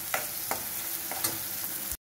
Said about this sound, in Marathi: दोन एक मिनिट आपण कांदा होऊ देऊ।